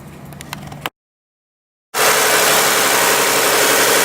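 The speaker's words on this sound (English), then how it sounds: "Engine started, no problem" Car engine just started after a fuel injector cleaning with a 3M cleaner and adapter kit, idling slightly high in a loud steady drone after a brief quiet gap.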